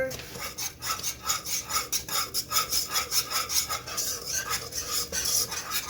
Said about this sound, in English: And we'll give it a nice stir